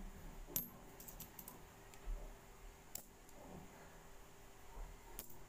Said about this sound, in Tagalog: Isa-isayin po natin mga kabarya.